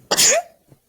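A single sharp sneeze bursts out close and loud during a tabletop role-playing game session, followed by a faint short sound.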